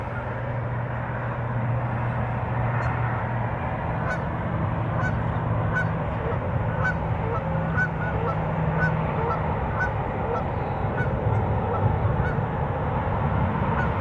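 Geese honk continuously at night, a dense chorus of many birds calling over a steady low rumble, loud and sustained with no pause, and no voices in the clip.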